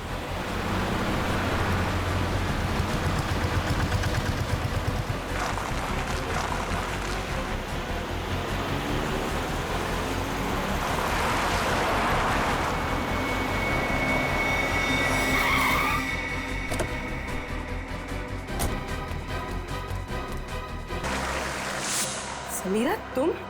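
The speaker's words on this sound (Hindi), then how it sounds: "गाड़ी बहुत तेज चला रही है।" A car driven very fast with tires skidding and squealing, a loud continuous roar and screech in a CID TV drama scene, with music and effects layered over it.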